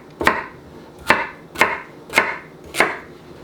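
A knife chops washed, unpeeled carrots into chunks on a board. Five crisp, evenly spaced chops land about half a second apart, close and clear, with no speech.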